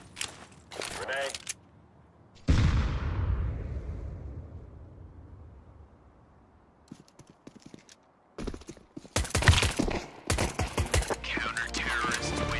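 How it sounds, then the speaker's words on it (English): Grenade explosion in a Counter-Strike match, with a loud sudden blast that decays slowly into a fading rumble, followed later by rapid sharp gunfire bursts and brief speech. "Grenade."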